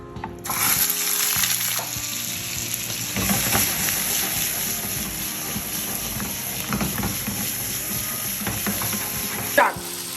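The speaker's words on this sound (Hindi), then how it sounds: "अच्छे से चिकन को भून लिया, यानी कि अच्छे से फ्राई करिए इसको" One kilogram of chicken frying in two to three spoonfuls of oil in a pot for white karahi: a steady, close sizzle with occasional stirring clatter, and no talk.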